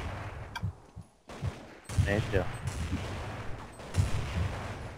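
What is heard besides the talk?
gunfire in Counter-Strike 1.6 video game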